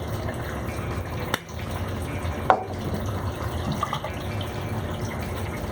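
Whiskey, 1.5 ounces measured out for a Honi Honi cocktail, pours with a steady liquid trickle and a couple of small clinks, close and alone without talk.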